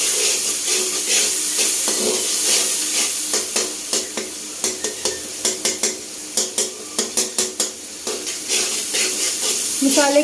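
Masala frying in a pan for masaledar bhindi with okra and onions, making a constant sizzle while a spoon scrapes and clacks against the pan in quick, rhythmic strokes. No talk is heard.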